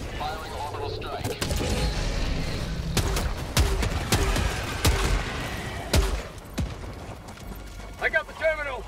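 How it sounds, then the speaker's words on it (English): An orbital strike in the shooter game Helldivers 2 rumbles through a chaotic battle, with repeated sharp blasts and bursts of gunfire mixed with clanking mechanical game sounds, while a player talks over the action. "Requesting orbital strike. Firing orbital strike."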